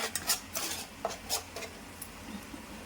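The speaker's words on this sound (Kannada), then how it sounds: "ಇಲ್ಲಿ ನಾನು ಮಸಾಲಾನ ಹುರ್ಕೊಳ್ತಾ ಇದ್ದೀನಿ." Masala frying in a pan for a mushroom gravy, stirred with repeated scraping strokes of a spoon against the metal, with a faint sizzle underneath and no talking.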